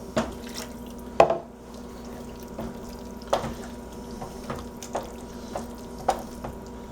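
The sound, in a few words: adding water to thin hamburger chow mein gravy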